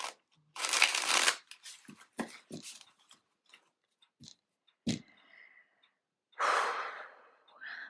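Tarot cards are shuffled in several bursts of riffling and shuffling, with pauses and light handling noises between them, close and moderately loud. A few soft breaths are heard and no one speaks.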